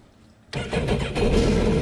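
After a brief quiet moment, a Sea-Doo Spark personal watercraft engine cranks and catches after a battery replacement, then settles into a rough, rumbling idle close by.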